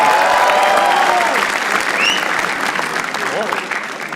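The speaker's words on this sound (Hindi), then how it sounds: "रजत सूद के लिए तालियां मैं प्लीज" Loud, dense audience applause and cheering fills a roast battle comedy show, greeting comedian Rajat Sood, with whistles and shouts rising over the clapping throughout.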